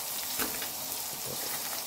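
Chopped garlic and onion sautéing in cooking oil for kare-kare made with leftover lechon, a loud, close, continuous hissing sizzle with a brief stirring bump, no talking.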